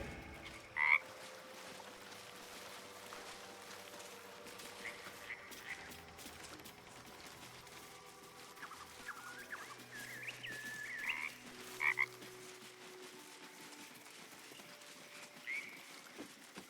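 A frog in the fantasy video game Baldur's Gate 3 gives a few soft, sparse croaks over a quiet ambient game background with faint music, no voices.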